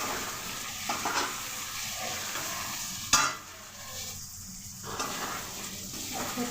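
Pieces of South Indian garlic roast chicken fry in a pan with a steady sizzle, stirred with scraping strokes and one sharp clack of a utensil against the pan; no voices.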